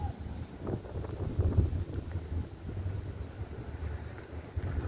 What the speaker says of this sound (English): A little breezy here today, so you may hear some wind gusts.